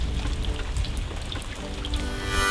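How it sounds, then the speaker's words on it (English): Steady rain patters down in Kansas in a dense, continuous hiss with scattered drops, fairly close and loud, no voices. "It's raining."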